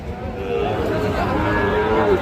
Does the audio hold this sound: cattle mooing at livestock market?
yes